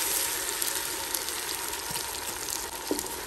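Onion, tomato and green paste frying for donne biryani, a steady close sizzle with soft crackles and occasional stirring sounds, continuous and fairly loud with no talking.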